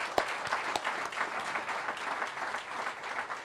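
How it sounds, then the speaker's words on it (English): Brief applause from an audience at a DC headquarters ribbon-cutting with the mayor. A few distinct claps lead into a short spell of moderate clapping, with no voices over it. "that deserves a round of applause"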